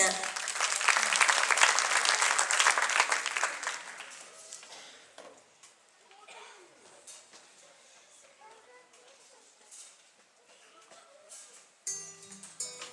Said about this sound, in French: On applaudit mademoiselle Séverine